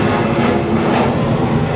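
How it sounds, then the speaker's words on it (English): Airplane passing low overhead on approach to an Atlanta airport runway, a loud continuous broadband engine roar that fills the whole stretch without a break. "You know, the plane coming over."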